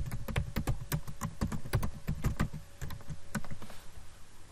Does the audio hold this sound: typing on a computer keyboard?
yes